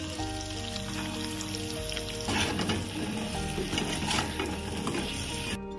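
Spices crackle and sizzle steadily in hot oil in a pan, salt, turmeric, cumin-coriander powder and Kashmiri red chilli frying for a Bengali doi aloo dum. The sound is close and continuous, with stirring scrapes partway through.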